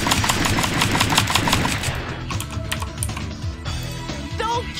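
Rapid gunshots in the arcade zombie shooter The House of the Dead 2, dense quick-fire bursts at first that thin into scattered shots amid game effects and background noise.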